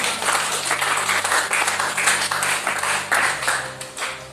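A church congregation claps steadily in a dense, continuous applause that holds at a loud level throughout, with a faint sustained musical tone beneath it.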